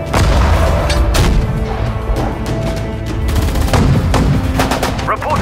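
Machine gun fire in the World War II strategy game Sudden Strike 4, El Alamein desert battle: dense, continuous rattling bursts with booming impacts mixed in, loud and unbroken throughout.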